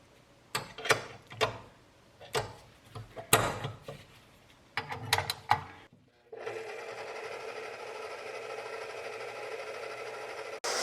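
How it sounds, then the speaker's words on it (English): A stand mixer works through a bath bomb mixture, starting with a run of sharp, uneven knocks and clatter and then settling into a steady whirring hum, with no talking. "And then we're gonna get this mixing in our stand mixer."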